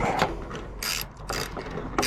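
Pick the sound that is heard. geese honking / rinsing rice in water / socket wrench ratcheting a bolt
socket wrench ratcheting a bolt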